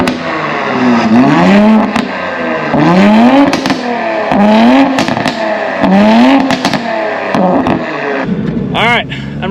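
Ford Mustang running on E85 during a roll race, engine revving up in repeated rising pulls roughly every second and a half, loud and close, with shifts between pulls and a brief whine near the end.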